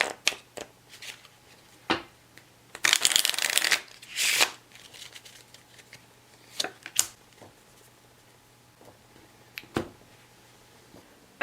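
A deck of playing cards is riffle-shuffled up close, giving two brisk ruffling bursts amid scattered taps and clicks of the cards being handled.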